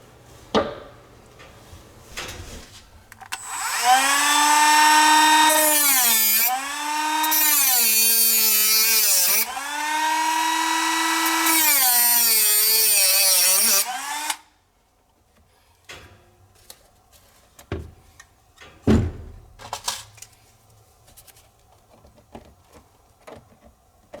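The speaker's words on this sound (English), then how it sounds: "So, first of all, we'll cut this piece of track out." A power tool cuts through model railway track in three sustained whining bursts, each with a rising and falling pitch, followed by quieter handling clicks and knocks once the cutting stops.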